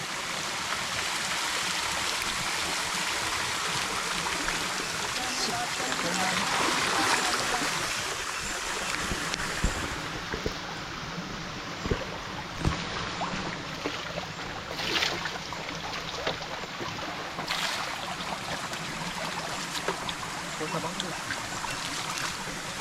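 Stream water rushes steadily and close while an Apache 160 4V motorbike is washed in it, with scattered splashes and knocks over the constant flow.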